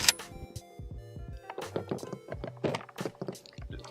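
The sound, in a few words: loading shells into a Maverick 88 pump-action shotgun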